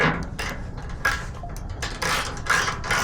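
Bolts being tightened on the running board side-step brackets of a Tesla Cybertruck, a run of short metallic ratcheting and clicking bursts, close and moderately loud, with no talk.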